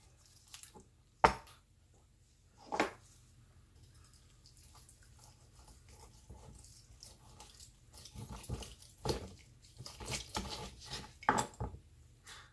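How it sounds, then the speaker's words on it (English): Bones are cut away from a standing rib roast and the meat is sliced after resting, giving quiet, close knife scrapes and sawing rubs, scattered early with a couple of sharp knocks, then denser and more rhythmic toward the end, with no talking. "I'm going to go ahead and remove these bones and slice into this thing."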